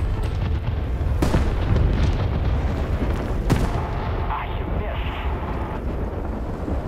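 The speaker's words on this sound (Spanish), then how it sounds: "que tira las bombas de uno en una, así te puedes cargar a tres" Bombs fall and explode in War Thunder, giving dense rumbling booms that come one after another over a constant roar of aircraft engine noise, with a couple of sharper cracks standing out.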